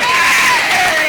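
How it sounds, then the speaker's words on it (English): An audience claps and cheers for a woman at a live broadcast programme, a loud, dense wash of hands with a few shouts rising over it, close and continuous for about a second. "You're gonna clap for her."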